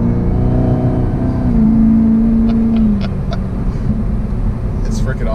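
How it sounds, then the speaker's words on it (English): A Camaro ZL1 exhaust rises in pitch as the car accelerates, a loud, close drone that climbs then eases off, with people talking over it. "We need to hear that exhaust again."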